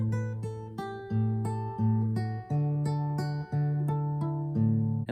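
Acoustic guitar playing the chorus of a song with melodic fills, a steady run of plucked notes over low bass tones, close and clear with no talking.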